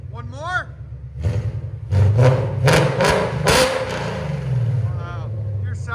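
Revs from a 2021 Ford Mustang GT 5.0L V8 through a Valvetronic Designs exhaust roar close and loud in repeated sharp blips over a rumbling idle, with a brief voice heard near the start.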